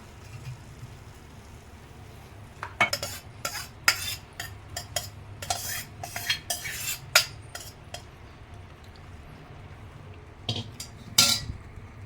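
A spoon scrapes and clinks against a pan in irregular bursts, stirring marinated chicken over a low background hum.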